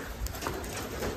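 A Giribaj pigeon gives a brief low coo, short and fairly faint against a noisy background.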